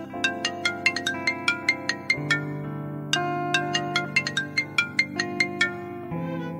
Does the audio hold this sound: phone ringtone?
yes